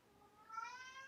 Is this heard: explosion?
no